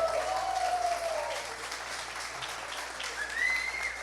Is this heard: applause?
yes